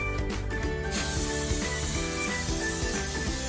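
Pam cooking spray hissing onto the sides of a baking pan, a continuous close breathy spray over faint background music, steady in level for the whole stretch.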